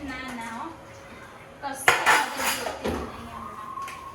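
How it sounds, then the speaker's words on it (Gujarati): Dishes, pots and utensils being scrubbed and washed after a dosa meal at home, with clattering metal and clinking bursts that grow louder partway through, close by and mixed with a little talk. "હવે અમે ફાઇનલી ઢોસા ખાઈ લીધા છે અને હવે હેલ્ધી વાસણ ઘસવા બેસી ગઈ છે"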